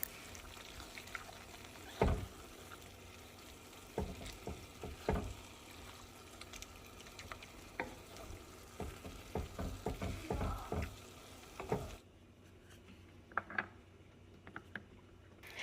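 Queso taco dip with taco meat stirred in a pan over low heat, a spoon scraping and mixing in soft wet strokes with a steady low sizzle, a few sharper clinks near the start and a quieter stretch at the end.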